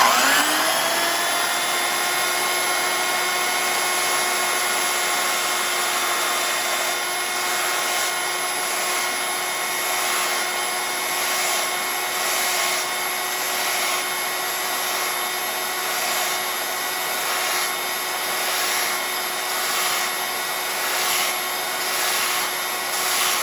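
An electric hand planer knife is ground on a running belt sander, giving a loud, steady motor whine with a faint rhythmic swell as the blade makes repeated passes. No one speaks.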